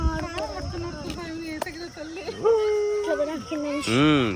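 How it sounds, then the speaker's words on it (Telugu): Dogs in a park bark close by, with sharp yelps and a drawn-out whining howl near the end, while people talk in the background. "కుక్కలు కూడా పార్కుకి వచ్చాయి"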